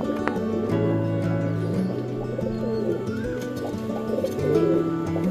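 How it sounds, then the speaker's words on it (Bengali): Fancy pigeons, Mayurpankhi and Giribaz breeds, cooing close by in a loft, with repeated low throaty coos layered over one another and a few faint chirps from other birds in the background. "এই যে দেখতে পাচ্ছ ময়ূরপঙ্খী পায়রাটি"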